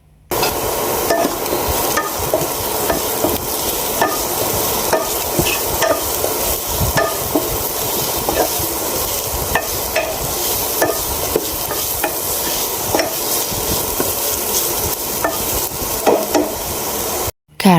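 Carrots stirring and frying in a pan while pasta is being made: a continuous sizzle with repeated scraping stirs, close and steady for the whole clip.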